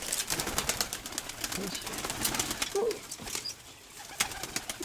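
Pigeons coo softly in a loft, with low rounded calls rising briefly out of steady rustling and background noise. A person speaks nearby.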